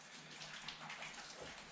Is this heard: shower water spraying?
yes